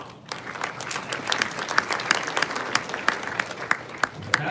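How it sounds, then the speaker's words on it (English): An audience claps steadily at a religious freedom summit, dense applause with crisp individual hand claps standing out, sustained and fairly close throughout without any speech over it. "give yourselves a round of applause"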